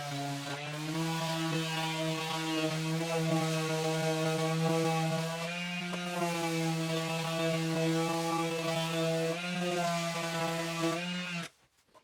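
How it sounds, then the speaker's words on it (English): DeWalt sheet sander working stained wood with 150 grit paper, a steady electric motor drone with strong even harmonics running continuously at close range, then cutting off abruptly near the end. "We'll hit it with 150 grit, and it just does a really, really good job."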